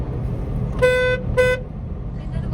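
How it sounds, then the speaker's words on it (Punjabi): Two short car horn honks, the first a bit longer than the second, sounding clearly over a low road rumble from inside a moving car in Ludhiana. "ਬਾਣੀ ਹੌਰਨ ਮਾਰ"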